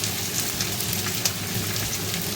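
Food frying in a pan for black pepper chicken, a steady, close crackling sizzle with scattered pops and no talking.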